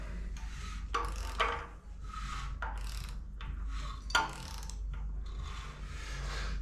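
An MGB 1.8 engine crankshaft turned slowly by hand with a vernier timing wheel fitted, giving a run of light clicking and ratcheting mechanical taps over a steady low hum, close and fairly quiet.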